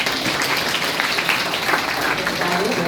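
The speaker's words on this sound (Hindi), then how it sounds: "तो हम इनका जोरदार तालियों से स्वागत भी करेंगे" An audience of students gives loud, dense clapping to welcome a college principal at a National Youth Day event, sustained and steady across the short stretch.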